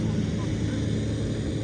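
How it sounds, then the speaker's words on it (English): A tractor drives past on a golf course, a steady low engine drone at moderate distance, while a person talks over it. "tractor just driving past, as he will do for the rest of the hole."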